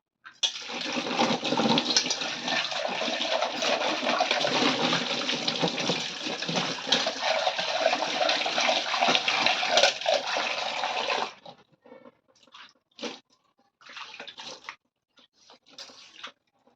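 Tap water gushes loudly and steadily over a scrubbed, burnt cooking pot for several seconds, then cuts off, leaving short splashes and scattered rinsing sounds.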